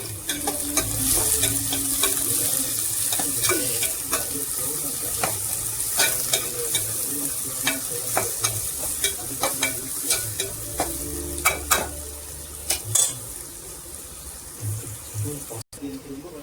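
Onions sautéing in a pan with cinnamon and cloves for Saidapet-style vada curry, a steady sizzle broken by repeated scraping spoon strokes, with a brief burst of running tap water near the end.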